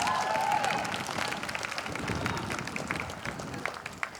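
Audience applause rings out at a school district centennial celebration and ribbon-cutting ceremony as a teachers' union president is welcomed, steady dense clapping that thins toward the end with a few scattered claps.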